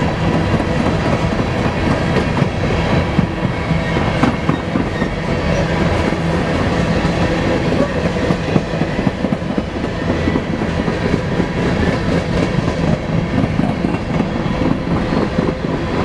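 A BNSF SD70ACe diesel locomotive hauls an eastbound coal train past on a chilly, partly cloudy day in Spokane Valley, a loud, steady roar of engine and rolling cars with rhythmic clickety-clack of wheels over rail joints throughout.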